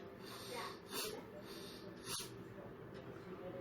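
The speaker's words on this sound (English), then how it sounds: "So basically you have to breathe in deeply and then exhale out exhale out quickly like this" Bhastrika pranayama, forceful rapid breathing through the nostrils: two strong, hissing nasal exhalations stand out over a steady breathy background, close and fairly loud.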